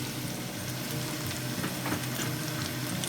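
Garlic and spring onion frying in oil in a wok, giving a steady, dense sizzle that stays close and even throughout with no talk.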